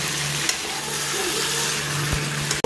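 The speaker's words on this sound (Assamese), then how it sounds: "আলু দিয়াৰ পাছতে মই মাংসখিনি 5 মিনিট সময় ভাজি ল'লো" Pieces of duck meat fry with potatoes in a pan for an Assamese duck curry, giving a constant low sizzle close by, with a faint stir or two and a brief clatter at the very end.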